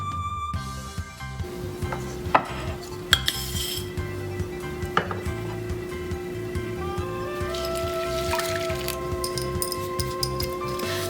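Overnight oats with honey are mixed in a bowl: a spoon clinks and scrapes against the dish in a steady, close stirring rhythm with a few sharper knocks, and a low hum runs underneath without talk.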